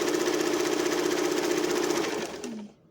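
A sewing machine runs steadily as it stitches a plain, flat seam, a close continuous whirring hum that slows and winds down in the final half second.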